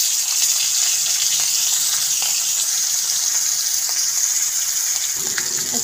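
Fish frying in hot oil in a pan, a loud, dense, unbroken hiss of sizzling that holds steady from start to finish, with a faint clink near the end.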